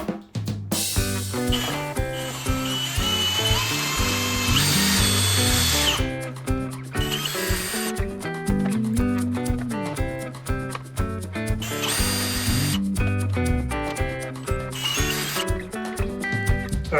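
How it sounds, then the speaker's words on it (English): A power drill drilling pocket holes with a jig for wooden interior window trim runs in long, loud bursts with brief pauses between, whirring steadily up close. "next I'll be drilling some pocket holes"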